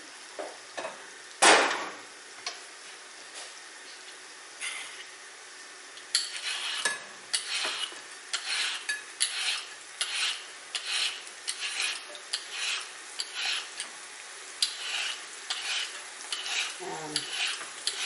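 Onion sizzles as it fries in a pan, with repeated stirring and scraping strokes, clattering utensil taps and a sharp knock early on, all fairly close.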